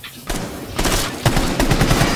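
Shotgun blasts in the Rainbow Six Siege video game come as several loud, close booming shots in quick succession, about half a second apart.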